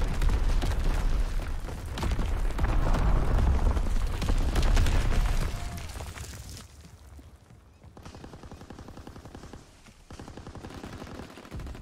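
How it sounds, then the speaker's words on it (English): Heavy machine-gun fire and booming artillery explosions from incoming enemy shelling in a Call of Duty game rage loudly for several seconds, then drop to sparser, quieter rattling shots. "Incoming enemy artillery! Get to cover!"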